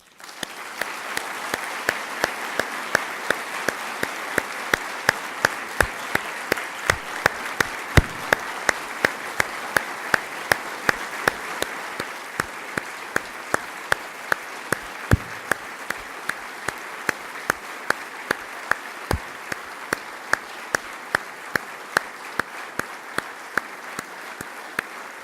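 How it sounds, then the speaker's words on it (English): Audience applause at a Hall of Heroes induction ceremony for a Medal of Honor recipient, a long steady round of clapping with sharp regularly spaced clicks or flashes punctuating it throughout. "round of applause"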